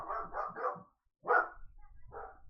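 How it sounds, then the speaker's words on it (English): Dogs bark in a quick run of three yaps, then fall quiet before two more barks, fairly close and clear with no one talking over them. "Wow, dogs."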